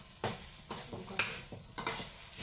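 Grated coconut is stirred and roasted in a pan for coconut burfi, giving a soft dry sizzle with a few distinct scraping strokes of the spoon at a steady pace, close and fairly quiet, with no voices.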